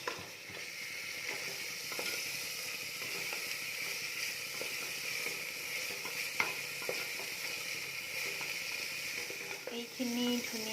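Chole mixture sizzles and simmers in a pan, a soft steady frying hiss with occasional small stirring clicks, close and unbroken until a short scrape at the end.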